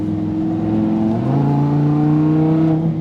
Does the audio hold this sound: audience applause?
no